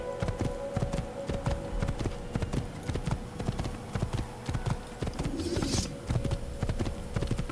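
Horse hooves in the video game Assassin's Creed, a steady galloping clip-clop of a ridden horse running at an even pace, close and continuous, with a brief brighter rustle midway and no talk.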